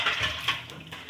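Boiled chickpeas tipped into a bowl for chana chaat, giving a brief, soft patter and light clatter at close range.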